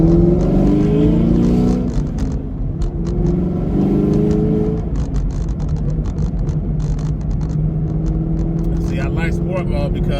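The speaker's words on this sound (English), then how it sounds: "I'm coming from a dead stop so you guys can hear the sport mode." A Camaro with aftermarket heads and cam pulls away from a dead stop in sport mode, its exhaust rising in a loud, building rev up close. A voice talks over part of it.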